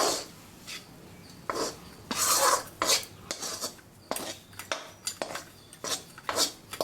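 Besan being stirred and pressed with ghee in a pan over a low flame, repeated scraping and rasping strokes of the spoon against the pan in an irregular rhythm, close and clear.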